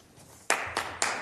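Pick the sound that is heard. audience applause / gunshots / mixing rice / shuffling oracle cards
audience applause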